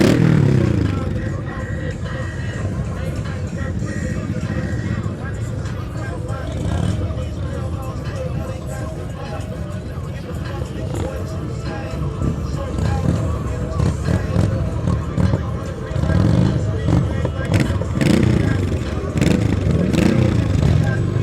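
Loud motorcycles roll past in a university homecoming parade, engines rumbling and revving continuously at close range, swelling now and then as machines go by, with crowd chatter and other vehicles underneath.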